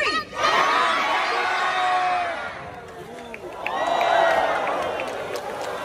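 At a Taronga Zoo seal show, a crowd cheers and shouts as the seal Pepper leaps and splashes the audience, a sustained roar of children's whoops and excited voices.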